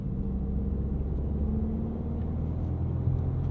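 A 2022 Volkswagen Golf R with a six-speed manual and all-wheel drive rolls over wet leaves, heard from inside the cabin as a steady low engine and road rumble.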